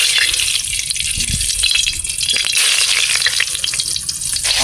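Prawns and pointed gourd fry in a wok with a loud, steady, close sizzle, broken by a few clatters of stirring and a brief watery splash.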